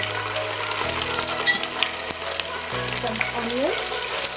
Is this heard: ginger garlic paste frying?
yes